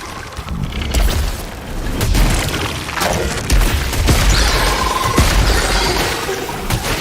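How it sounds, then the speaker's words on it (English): Enemy laser fire in the bullet-hell video game Returnal: a loud, continuous barrage of booming blasts and crackling impacts, layered densely with no pauses. "waves of lasers still coming at you, even though the enemy's dead"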